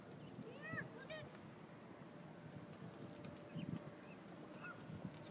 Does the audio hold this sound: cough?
no